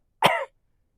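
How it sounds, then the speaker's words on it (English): A single sharp cough bursts out close and alone, lasting about a quarter second in otherwise silent surroundings. "he coughed aloud"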